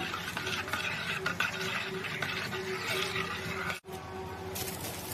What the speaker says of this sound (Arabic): كده نقلب السكر مع المانجا